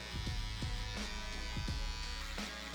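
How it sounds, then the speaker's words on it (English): An electric shaver buzzes during a low skin fade haircut, a close, continuous hum with soft clicks and scraping strokes as it passes over the head. "I really like this shaver. It gives me a way to work faster."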